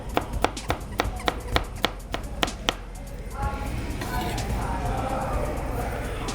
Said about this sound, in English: We're gonna do some dicing here.